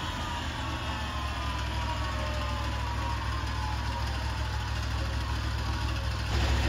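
A remote-control flail mower's small engine runs steadily just after starting, a constant close mechanical hum and drone with no talk, swelling slightly louder at the very end.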